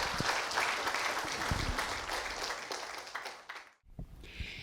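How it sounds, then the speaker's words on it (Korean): Audience applause greeting a lecturer at a humanities philosophy forum, steady clapping from a seated crowd filling the room, briefly dropping out before a few scattered claps trail on. "큰 환영의 박수 부탁드립니다"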